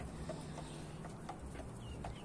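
A young rooster, about six or seven months old with smooth legs and no spurs yet, gives several soft, short clucks at a steady pace against a quiet farmyard background.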